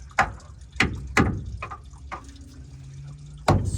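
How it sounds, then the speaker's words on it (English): Coolant drains from a 2004 Ford F350 6.0 diesel truck during a base oil pump job, heard as a series of sharp splashing drips and spatters at irregular intervals, close and moderately loud. "So the coolant is draining."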